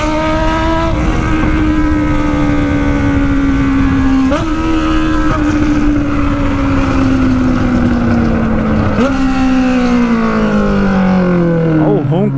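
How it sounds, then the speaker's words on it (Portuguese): A loud, steady Honda Hornet motorcycle engine roar with a low droning pitch that rises and dips with the throttle, continuous for the whole stretch. "Olha o ronco dessa moto"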